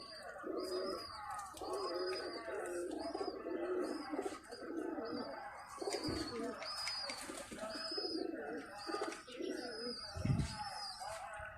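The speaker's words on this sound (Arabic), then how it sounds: "هذين الطيور" A flock of domestic pigeons coos steadily on an overcast, dark day, with layered soft throaty calls close by and a faint voice now and then in the background.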